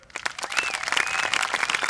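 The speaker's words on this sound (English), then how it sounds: "Green card means applause." An outdoor audience at a disc golf tournament applauds with scattered, uneven claps that build into a steady patter, moderately distant, with a faint whistle-like tone above.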